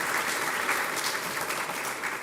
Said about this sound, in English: Can we please give the supervisor a round of applause?